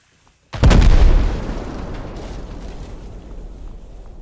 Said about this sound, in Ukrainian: Машина горить вже достатньо довго, треба зараз трошки відійти, тому що має бути вибух, щоб нас не зачепило осколками